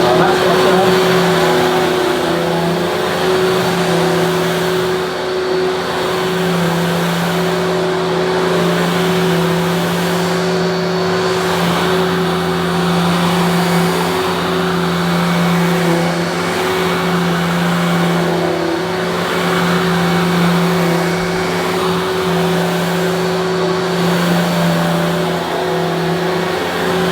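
A Hoover Evo Breeze vacuum cleaner runs continuously with a loud, close, unbroken motor whine and airy roar that holds steady throughout.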